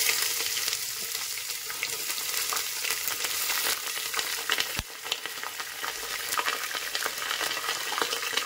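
Onion and green chili fry with peanuts in hot oil for khichdi, a loud, continuous close sizzle with occasional stirring scrapes and a single knock midway.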